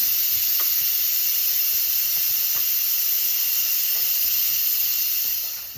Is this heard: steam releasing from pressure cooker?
yes